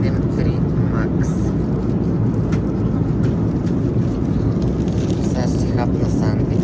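Cabin of a Boeing 737 Max airliner in flight, a loud, steady broadband roar of engines and airflow throughout, with talk faintly present beneath it.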